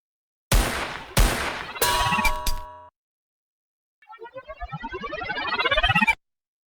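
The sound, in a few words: gunshot sound effects in a song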